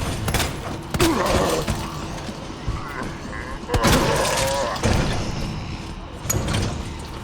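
SMG gunfire in Resident Evil 2 comes as several loud, sharp bursts spaced a second or more apart over a constant rumble of game noise, with someone talking throughout.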